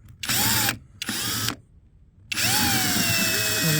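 Power screwdriver whirring in reverse while backing out a broken FM antenna on a 2006 Toyota Tacoma: three loud, steady bursts of motor whine, the first two about a second each with short pauses between, the last longer after a silent gap.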